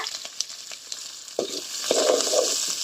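Green chillies, onion and curry leaves sauté in a hot pan, giving a steady close sizzle with a few scraping stirs that grow a little louder toward the end.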